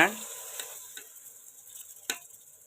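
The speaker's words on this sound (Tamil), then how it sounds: "மசாலா பொடி போட்டதுக்கப்புறம் நம்ம கொஞ்சம் நல்லா வதக்கிக்கலாங்க" Masala powder being sautéed in a pan for egg kurma, a faint sizzle broken by a few quick stirring scrapes, the sharpest one near the end.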